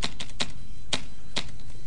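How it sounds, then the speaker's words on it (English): Keys tapped on a computer keyboard, a handful of sharp, uneven clicks close by, heard alone without speech. "I'm using almost entirely the keyboard while I'm doing this"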